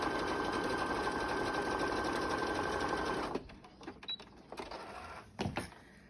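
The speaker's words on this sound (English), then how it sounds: "I'm going to pull the pins out before I cover them, before I sew over them." A sewing machine stitching a fabric mask runs in a steady, rapid whirring rhythm for about three seconds, then stops, followed by faint handling clicks and rustles.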